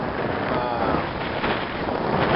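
Steady wind of about 10 to 15 miles an hour during Hurricane Sandy rushing and buffeting against the microphone, a continuous broadband roar with no clear gusts or pauses.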